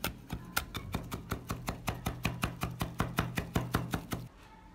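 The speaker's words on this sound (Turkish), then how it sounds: "2 adet yeşil biberi ve 2 adet yeşil süs biberi ince ince doğruyoruz." A knife chops green peppers finely on a cutting board in a quick, even run of about twenty crisp taps, close and clear, stopping abruptly at the end.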